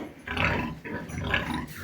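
Pigs on a small Ukrainian homestead farm, young breeding sows, grunting in two close, rough bursts separated by a short pause, with no talk over them.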